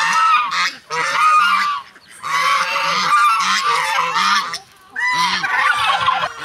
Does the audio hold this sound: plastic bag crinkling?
no